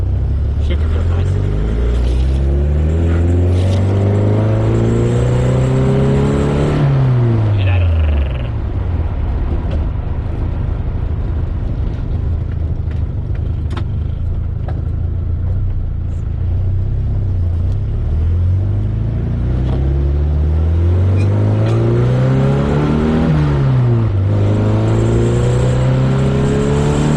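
A Datsun 510 engine accelerates hard through the gears while driving, with repeated rising revs that break off at each shift and a steady rumble between the pulls, loud and close.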